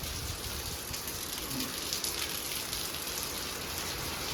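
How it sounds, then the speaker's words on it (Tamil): Monsoon rain falling steadily outdoors, a dense, even hiss of drops on surfaces that continues unbroken throughout, fairly faint and without speech. "இப்போ வந்து மழை பெய்ய ஆரம்பிச்சிருக்குது"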